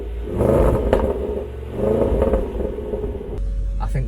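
A 2019 Range Rover Sport SVR engine pulls away with a low, muffled rumble that swells twice and eases off, heard steady throughout.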